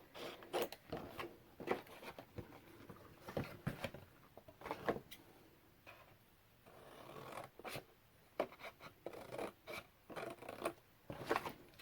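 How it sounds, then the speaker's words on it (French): Scissors work their way through scrapbook paper along a drawn line in quiet, close snips and rustles, with short pauses between the cuts. "Avec mes ciseaux maintenant je vais venir les couper."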